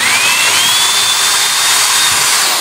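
A power drill whines steadily and loudly while pre-drilling holes into a pool fence gate for a magnetic latch, running continuously without pause.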